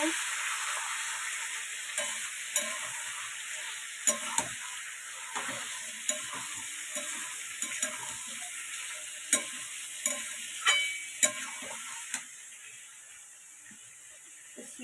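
Chicken pieces with tomato being stirred and fried in a pan over low heat, giving a steady close sizzle with scattered scraping clicks of the spoon throughout, no voices.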